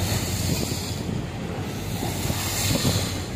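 Steady rushing of water and wind against a large river boat in Bangkok, a continuous broad wash with low rumble and gentle surges, no voices.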